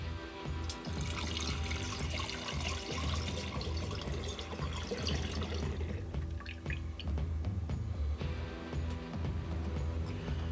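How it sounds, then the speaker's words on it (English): Bourbon pours through a funnel into a bottle nearby, making a continuous trickling, gurgling stream of liquid that lasts the whole stretch and shifts slightly in tone partway through. "And now just pour it in."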